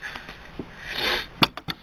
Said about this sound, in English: if you're wondering why I'm sniffling, I am still sick